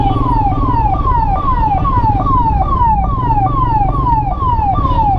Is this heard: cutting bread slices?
no